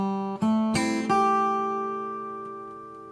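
On acoustic guitar, a chord and a muted string flick lead into a few plucked notes that finish the measure, the last note ringing out and slowly fading for over two seconds.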